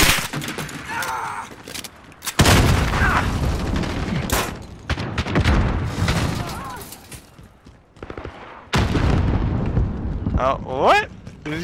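A grenade explosion goes off in Call of Duty: Modern Warfare during a hardcore Domination match on Shipment, a loud booming blast among scattered gunfire, with players talking excitedly over the noise.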